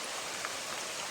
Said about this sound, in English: which has been consistently raining for almost 24 hours